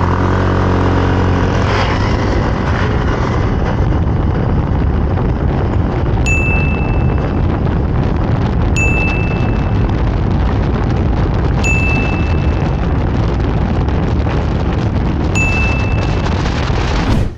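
A Honda ADV 160 scooter, rated at 15.8 horsepower, revs and accelerates in a loud, steady, close engine roar, with a few short electronic beeps repeating at intervals over it.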